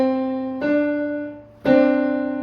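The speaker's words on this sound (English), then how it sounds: "I'll play a C and a D up here." Two sustained piano notes, C then D, each struck and ringing for about a second, the second landing a step higher than the first, clear and close.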